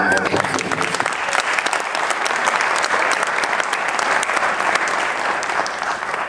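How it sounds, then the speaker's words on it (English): An audience at a memorial committee introduction applauds, a dense and sustained roomful of clapping that holds loud and steady for several seconds. "So, round of applause for Steve"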